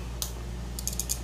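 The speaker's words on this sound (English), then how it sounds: "relay clicking" A relay under 24 volts on a plasma cutter with a no-pilot-arc fault clicks a few times in quick, sharp snaps, close and distinct over a steady low hum.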